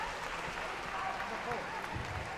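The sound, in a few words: crowd cheering a water polo goal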